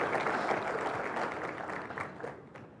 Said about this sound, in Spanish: Con ustedes, el padre Alfredo Sáenz, para quien pido un aplauso fuerte